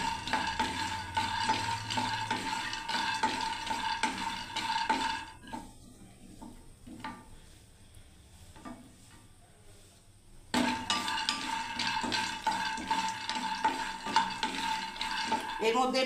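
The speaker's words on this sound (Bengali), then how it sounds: "বাদামগুলোকে ভেজে নিচ্ছি" Peanuts fry and get stirred in a pan, a dense rattling sizzle with repeated spoon scrapes that drops away to quieter scraping midway before the loud rattling stir resumes.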